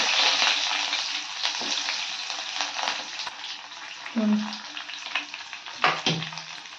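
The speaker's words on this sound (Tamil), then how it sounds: "என் எண்ணெய் காஞ்சிடுச்சு இப்போ நம்ம வெங்காயம் கருவேப்பிலை எல்லாம் போட்டுக்கலாம்" Sliced onions and curry leaves frying in hot oil with mustard seeds for a brinjal curry give a steady close sizzle, with a few brief stirring clatters.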